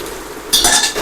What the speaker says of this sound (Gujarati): બસ આવી રીતે આપણે થોડી વાર હલાવતા રહેવું પડશે, જેથી કરીને હલવાઈમાં ચોટી ન જાય